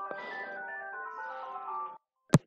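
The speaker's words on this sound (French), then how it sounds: "j'ai des interruptions dues au téléphone aujourd'hui" A telephone ringtone plays a bright electronic melody for about two seconds, then stops, followed by a short sharp click.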